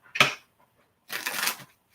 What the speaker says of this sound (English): this is going to be our last shuffle.